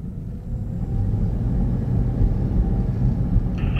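A 2016 Toyota Prius rolls along on dynamic radar cruise control, giving a steady low cabin rumble of road and tyre noise that holds throughout, close and with no talk.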